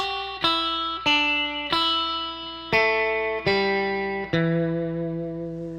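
Guitar picks out a slow blues riff of single distorted notes, each ringing and decaying before the next, seven or eight in a row.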